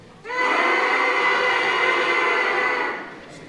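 A section of school band trumpets sounds one loud sustained chord at a sixth grade concert, rich in bright brass harmonics. It swells in abruptly, holds steady for about three seconds, then cuts off and leaves a faint room tail.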